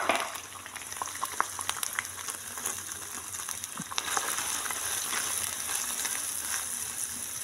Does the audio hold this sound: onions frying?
yes